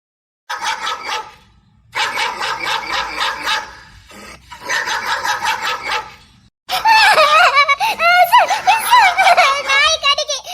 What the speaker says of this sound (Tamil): நாய் விரட்டுது